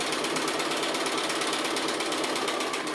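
A sewing machine stitches an applique box corner in one steady, close, continuous run of fast, even mechanical chatter with no pauses.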